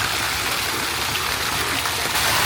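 Water runs steadily in the Pierce Memorial Fountain, a constant close splashing hiss with no breaks.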